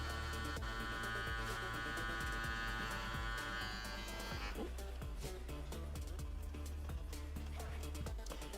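A small electric tool buzzes steadily and loudly up close, its tone shifting partway through as it moves over fabric.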